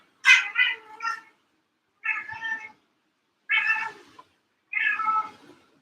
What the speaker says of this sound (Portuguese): agora eu vou ter que torear os gatos aqui